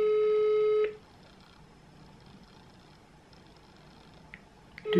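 Telephone call ringing tone: one steady electronic beep lasting under a second, then a long quiet stretch of line hiss before the next tone starts right at the end.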